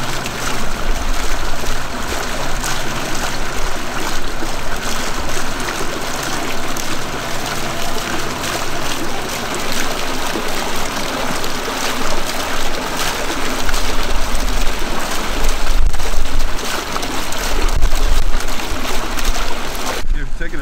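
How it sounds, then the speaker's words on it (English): Water fountain at Pomona College, a loud, steady splash and rush running throughout, close by, with speech mixed in at times. "water fountain a little closer."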